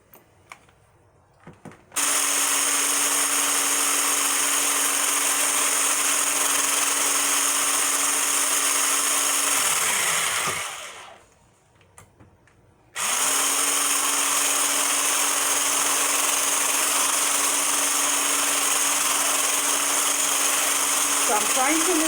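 An electric whisk beats homemade whitening lotion with a loud, steady motorized whine. It runs continuously, winds down and stops for a few seconds, then starts up again and keeps going to the end.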